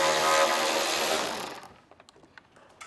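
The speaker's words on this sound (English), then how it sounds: "pull out those 2 screws" A power tool with an 8mm socket backs out screws on a 2023 BMW X4, a loud, close whir lasting over a second before cutting off and leaving a few light clicks.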